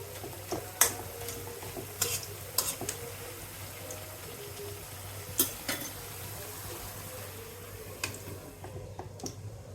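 Leafy greens cooking in a pan without added water, quiet sizzling with intermittent clicks and taps of a spoon stirring against the pan.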